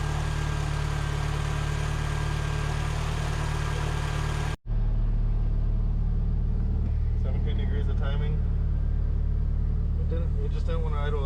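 A 2.0 high-compression Neon engine with bigger injectors idling on a dyno, a steady loud low rumble that cuts out briefly and then resumes, with people talking over it.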